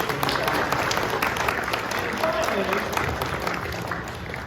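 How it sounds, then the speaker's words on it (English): Steady applause from a crowd fills the whole stretch, dense and continuous, with a few voices faintly audible beneath the clapping. "Let's give them a round of applause."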